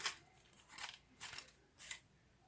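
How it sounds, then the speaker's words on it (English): Tiny scissors snip a dried glue tail off a paper dahlia flower, making four quiet, crisp cuts spaced about half a second apart, close up and alone. "I take my tiny little scissors, and if there's like little tail like this, I just cut it off."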